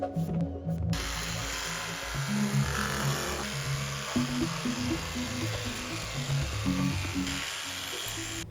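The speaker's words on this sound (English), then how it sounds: "we decided to continue with the jigsaw" A jigsaw cuts curved interior panels for a VW Vanagon/T25 camper van build, buzzing steadily in a fairly quiet, continuous drone with slight rhythmic pitch shifts as it works through the material.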